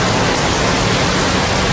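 Heavy rain pours down on Christmas Eve in Cabuyao, Laguna, a loud, dense, unbroken roar of water with no other sounds.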